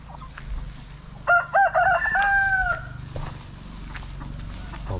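A farmyard rooster crows once, loud and close, a drawn-out cock-a-doodle-doo rising and holding before trailing off, with faint yard noise around it and no talk.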